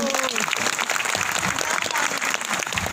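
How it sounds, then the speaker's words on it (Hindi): Audience applauding a doctor at a social-cause event, a dense, steady wash of clapping filling the room with voices calling out over it. "जोरदार तालियां डॉक्टर जतिन चौधरी जी के लिए"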